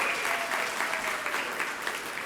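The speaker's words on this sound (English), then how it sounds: "Let's give Mr. Meeks a round of applause because he doesn't get that very often" An audience at a school district anniversary celebration for a newcomer center applauds, a steady dense clapping from many hands that fills the room for the whole stretch with no talk over it.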